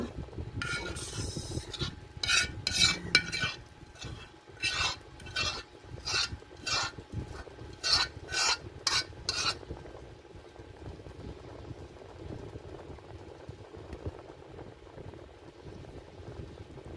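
Sauce is added to fried tofu in a hot pan, bursts of sizzling and scraping stirring in the first half, then a quieter low bubbling simmer.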